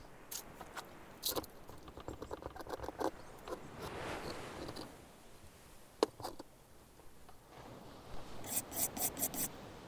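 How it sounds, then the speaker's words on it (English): Excess glue scraped off the top surface of a guitar neck, a long run of close dry rasping strokes, irregular and rhythmic, with sharper scratchy bursts toward the end. "And here I'm just scraping off the excess glue from the top surface."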